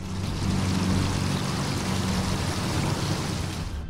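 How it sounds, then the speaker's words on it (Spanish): Drinking water pouring out of cracks in a street, a steady broadband rushing and gushing that holds constant throughout with no voices. "Realmente preocupa, pues, por toda esta cantidad de agua potable que se está derramando"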